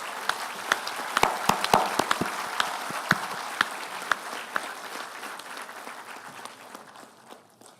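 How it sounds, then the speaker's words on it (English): A university graduation audience applauds the graduates' parents, a sustained crowd clapping with sharp individual claps popping out, slowly fading away over about eight seconds. "please a loud applause for your parents who are here today"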